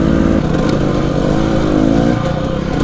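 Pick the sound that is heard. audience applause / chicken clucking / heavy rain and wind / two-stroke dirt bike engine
two-stroke dirt bike engine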